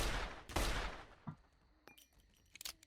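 A single loud gunshot from a Roblox gun similar to an S&W in the game Oretary, with a sharp crack that rings out and fades, then faint clicks and small mechanical sounds.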